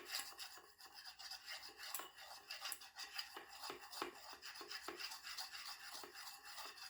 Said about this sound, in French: nous allons mélanger jusqu'à ce que le mélange soit bien homogène